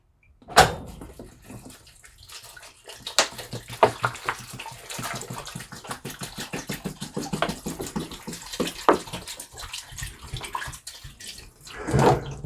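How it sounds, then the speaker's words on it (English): Water poured into a cooking pot of carrots and raisins for homemade carrot wine, a continuous splashing pour with clunks at the start and end of the pour. "And pour in our water."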